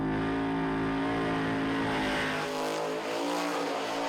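Holden Commodore race engine screams at very high revs, over 8,000 rpm, a loud sustained wail with steady harmonics that eases slightly toward the end, with no voices over it.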